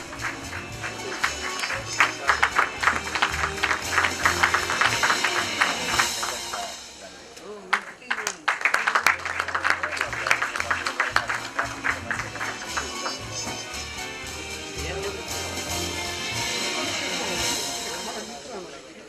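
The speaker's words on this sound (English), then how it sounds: "A huge round of applause, ladies and gentlemen, for Narendra Sahu, the director of Vista Infosec Private Limited." Applause from an audience at an IT awards ceremony greets a company director receiving an award, with dense clapping that swells and dips over the span.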